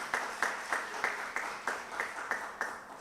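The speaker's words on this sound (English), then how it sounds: "Big round of applause to the panelists." Panelists at a university event receive applause that comes through as steady, evenly spaced claps in a regular rhythm. It is faint and distant, like a small audience heard through a room microphone.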